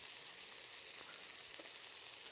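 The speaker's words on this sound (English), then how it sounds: "we got those burgers sizzling there" Burgers sizzling on a grill make a steady, close hiss and crackle that runs without a break, with faint clinks here and there and no voices.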